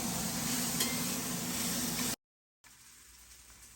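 Onions frying in a pan for bean burgers, a steady close sizzle that runs unbroken for about two seconds, cuts to brief silence, then returns much quieter.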